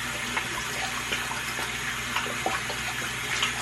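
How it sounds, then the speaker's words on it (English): Tap water running into a bathroom sink for rinsing the face, a steady rushing splash with small irregular spatters, close and continuous throughout with no talking. "Because we're gonna run the water"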